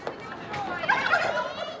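Turkeys gobbling close by, a warbling, rattling call that rises and falls over about two seconds against faint background noise.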